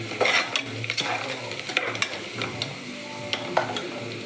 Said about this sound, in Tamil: அதையும் போட்டு ஒரு 2 நிமிஷம் நல்லா வதக்கிக்கலாம்